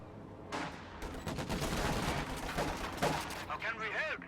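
Bursts of machine gun fire from DP machine guns in a strategy video game battle, rattling volleys layered with other game effects and overlapping speech throughout.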